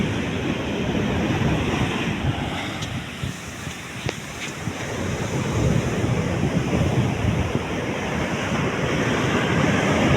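Heavy waves roll onto a seashore on a rough morning with high water, a steady, loud broadband roar of surf with some wind buffeting the microphone.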